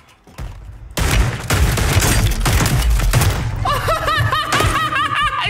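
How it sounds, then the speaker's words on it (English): Shotgun blasts in the video game Call of Duty: Warzone sound as loud, rapid gunfire bursts over several seconds, followed by a player's chirpy laughter near the end. "Dude, I shot him 3 times with the shotgun."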